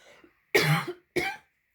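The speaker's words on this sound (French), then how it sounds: "puisque je tousse, je ne sais pas pourquoi là" Two sharp coughs from a close voice, separated by a short pause, in an otherwise quiet room.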